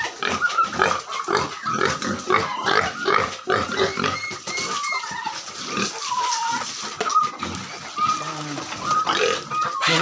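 Pigs about two months old grunting and oinking at feeding time on a farm, a busy run of close, overlapping grunts and squeals with occasional voices in the background.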